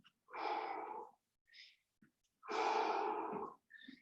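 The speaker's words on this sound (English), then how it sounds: "Deep breaths." Deep, heavy breaths after a full-body HIIT workout, two long close inhales and exhales with a few shorter breaths between, quiet and alone.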